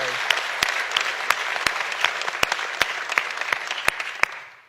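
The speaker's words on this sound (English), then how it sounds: "Let's give them a big round of applause." Audience applause at a conference keynote: steady dense clapping from a crowd, with sharp individual claps popping out regularly, sustained throughout and fading at the very end.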